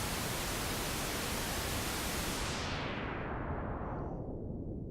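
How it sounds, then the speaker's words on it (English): A steady pink noise test signal hisses loudly and evenly, then its upper range is cut away by EQ, so the sound grows darker and duller toward the end. "I'm going to engage the pink noise and let's have a listen"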